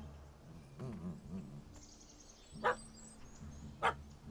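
A puppy barks at a cat up a tree in The Witcher 3: two short, faint barks stand out over quiet outdoor ambience with insects and birds.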